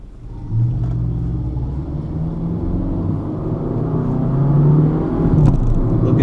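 A car accelerating hard at full throttle in a drag against a Ford Super Duty, a loud, close, steady engine roar rising in pitch with a deep rumble underneath.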